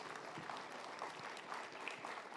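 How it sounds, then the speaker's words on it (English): Applause from an audience honouring panelists at a youth energy and natural resource forum, a steady dense patter of many hands clapping at moderate distance, continuous throughout with no voices standing out. "let's give a big round of applause for these wonderful panelists"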